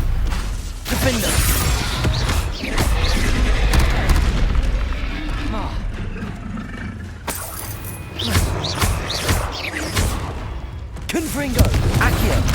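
Repeated booming spell blasts from Confringo in the Hogwarts Legacy video game, loud and continuous, layered with combat effects and a voice calling out spell names throughout.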